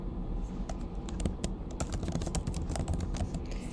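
Fast, irregular clatter of typing on a computer keyboard, close and fairly quiet, with bursts of keystrokes running steadily throughout and no voices.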